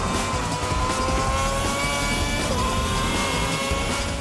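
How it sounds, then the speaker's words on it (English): Formula One cars in the F1 2010 racing game roar continuously at high revs, layered engine whines overlapping loudly with no pauses. "the roar of competing cars keeps you well aware of their positions on the track"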